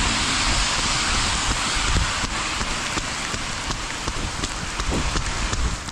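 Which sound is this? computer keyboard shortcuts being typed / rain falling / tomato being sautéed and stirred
rain falling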